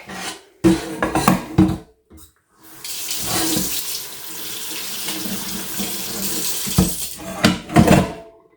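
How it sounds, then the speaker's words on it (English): A copper-bottomed pot is scrubbed at a sink with running water, in bursts of scraping and splashing that are followed by a longer steady wash of water. "All right, so I'm just going to scrub a bit."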